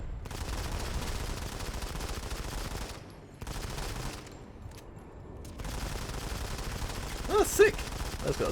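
Rapid bursts of automatic gunfire from the mobile shooter Modern Combat 5 crackle in a steady fusillade, broken by short silent gaps and a few sharper shots near the end.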